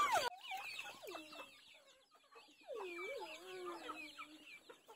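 Chickens cluck and squawk close by, with a couple of drawn-out, wavering calls among the shorter clucks.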